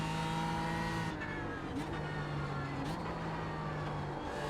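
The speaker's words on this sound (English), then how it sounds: "Like the downshifts, very nice sound, nice compression" A BMW M4 GT3 or Lamborghini Huracan GT3 Evo race car in iRacing drops through gears, engine tone stepping down in pitch with each downshift, a steady mid-level drone and no voices.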